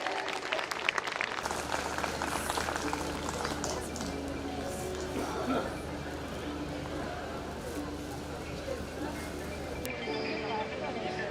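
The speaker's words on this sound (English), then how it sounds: "Can we have a big round of applause for this budding writer?" A school event audience applauds a young writer called to the stage: dense, sustained clapping fills the room throughout, with a brief voice at the start and crowd noise mixed in.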